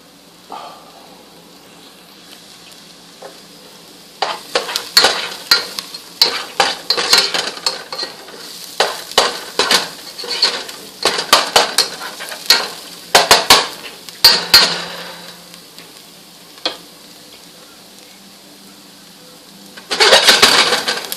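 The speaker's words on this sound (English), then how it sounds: "You always do your garlic right before you do whatever else you're going to do, because garlic cooks very, very fast." Shallots and garlic frying in a pan while a utensil stirs them, with irregular scraping clatters and bursts of sizzle over a low steady hiss, close up.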